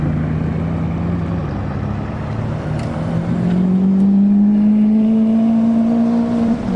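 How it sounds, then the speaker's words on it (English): A Bugatti Chiron and an Aston Martin Valhalla hypercar drive by together on a road at a car show, a loud close engine drone that climbs steadily in pitch as they pass, with no voices. "Bugatti Chiron and the Valhalla on the road together."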